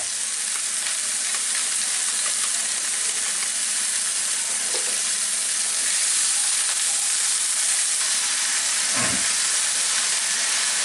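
Cabbage, cauliflower and carrot fry in a pan with a steady, loud sizzle and hiss, one brief low thump near the end, no voices.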